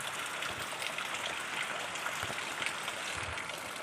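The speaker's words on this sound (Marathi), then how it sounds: "जोराचा पाऊस चालू आहे" Heavy monsoon rain in Konkan falls as a steady, dense hiss of water with occasional louder drips and splashes, continuous and moderately faint.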